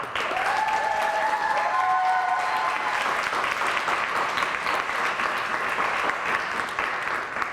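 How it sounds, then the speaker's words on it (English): Audience applause for junior 15-to-17-year-old mixed pairs athletes at the 2020 Poomsae Grand Slam Final, a taekwondo event: steady, dense clapping that holds at an even level throughout, with a few voices rising briefly early on. "Let's give these athletes a round of applause"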